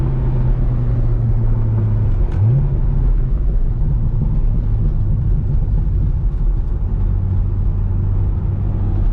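A stock Corvette C6 Z06 accelerating hard in third gear during a drag race: a loud, steady engine roar with a low rumble and a brief pitch dip mid-run, heard close and continuous throughout.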